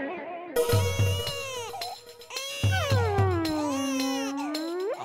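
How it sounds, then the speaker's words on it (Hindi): An infant crying in bursts with rising and falling wails, loud and close, in a household scene from a Hindi TV comedy, with low thumps underneath. "आवाज तो आ रही है रोने के बच्चे की।"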